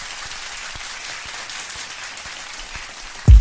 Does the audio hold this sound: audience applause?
yes